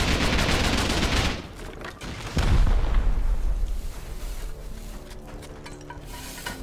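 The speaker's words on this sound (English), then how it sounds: "I'm getting exposed to bullets." Gunfire in the survival game Rust during a clan raid on a large circular base, with a dense, loud burst of shots and impacts at the start and a heavy blast a moment later, then a fading rumble.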